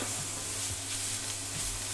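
Onion, carrot and garlic fry in oil in a skillet for a meatball tomato sauce, giving a steady, close sizzle with faint stirring scrapes throughout, no voices.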